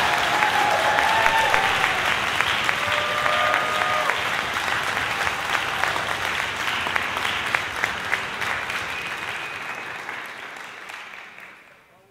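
A school concert audience gives award recipients a big round of applause at a high school spring concert. The clapping is dense and steady, then fades out toward the end.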